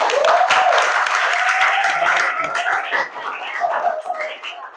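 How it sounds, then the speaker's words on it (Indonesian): A class of ninth-grade students claps together in a classroom, a dense burst of applause that starts loud and gradually thins out and fades over a few seconds. "Tepuk tangan untuk kita semua."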